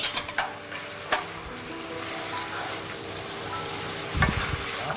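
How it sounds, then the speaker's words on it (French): Onions, carrot and lardons fry in butter in a Staub pot, a steady broadband sizzle with a few sharp stirring scrapes and clatters near the start and again near the end. "Et en même temps, on fait revenir les oignons."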